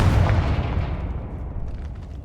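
The Confringo explosion spell from Hogwarts Legacy bursts loudly at the start and then rolls off as a deep rumble over about two seconds, standing alone with no talk over it.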